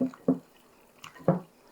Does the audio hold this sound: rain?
no